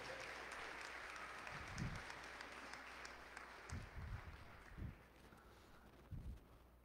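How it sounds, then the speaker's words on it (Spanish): Congregation applauding at a Sunday Catholic Mass after a call to congratulate a family on a newborn, a steady wash of clapping throughout with a few low thumps and bumps. "Un fuerte aplauso y decimos felicidades."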